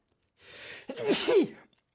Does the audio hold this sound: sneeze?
yes